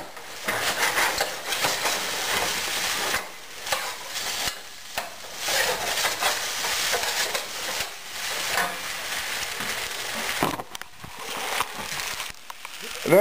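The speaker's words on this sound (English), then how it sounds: "Watch me stir this shit up." Pad thai being stirred while it fries in a pan, with a dense, continuous hiss and sizzle interrupted by frequent scraping and clattering stir strokes, close and fairly loud throughout.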